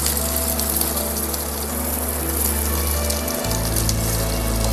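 Sliced onions frying in hot oil for chire polao make a steady, close crackling sizzle like rain on a surface, with a low background hum that shifts partway through.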